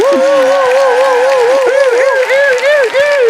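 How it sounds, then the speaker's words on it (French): Live audience applause at a comedy show in Trois-Rivières, steady and fairly loud, with a singing or speaking voice carrying over the top throughout. "On les applaudit, tout le monde!"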